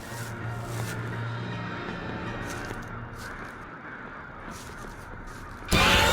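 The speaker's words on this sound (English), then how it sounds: "Oh shit, crows." Crows cawing inside the horror video game Sucker for Love, a few scattered calls sitting over a steady low ambient hum, with a sudden louder burst of noise right at the end.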